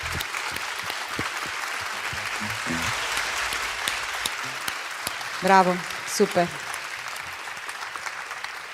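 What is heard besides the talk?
audience applause for the organizing teams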